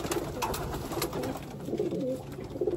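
A racing pigeon coos softly and repeatedly inside a breeder's loft, with steady ambient rustle around it and no talking.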